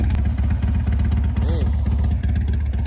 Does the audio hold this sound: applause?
no